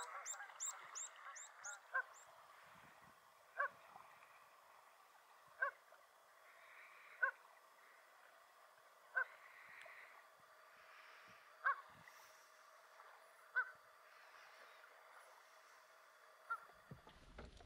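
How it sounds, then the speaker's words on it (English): Canada geese on the Island of Kerrera give a series of sharp, honking calls at roughly two-second intervals, moderately distant, over a steady faint background with a few scattered higher bird chirps. "listen to some Canadian geese, a sure sign spring is just around the corner"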